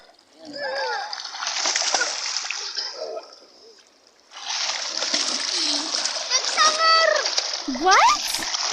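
Children dive and splash in water outdoors, producing loud close splashes and sloshing while kids shout and talk throughout.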